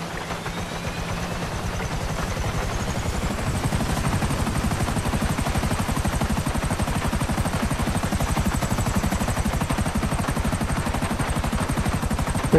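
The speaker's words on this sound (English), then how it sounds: "Pretty nice getting around in this helicopter." A helicopter's rotor in Grand Theft Auto V thumps steadily and loudly throughout, a dense rapid chop with a high whine riding above it, no voices.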